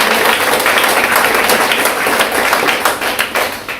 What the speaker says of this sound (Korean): 여기서 큰 박수 한번 해주시기 바랍니다.